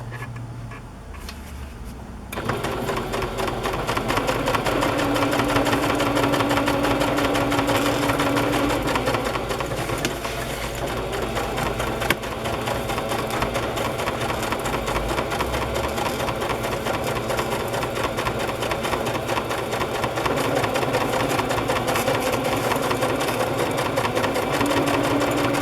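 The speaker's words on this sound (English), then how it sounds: "I'm going to put it back on the straight stitch and just kind of loosely outline her, just to stitch the fabric down a bit" A sewing machine runs a straight stitch to tack fabric down on a journal cover, a loud, fast, steady mechanical whir that starts after a brief pause and continues unbroken and close, no talking.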